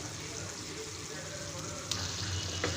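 Ghevda flat bean bhaji simmering in a pan on a gas stove, giving a steady, even sizzle and bubbling with a couple of brief scraping stirs near the end.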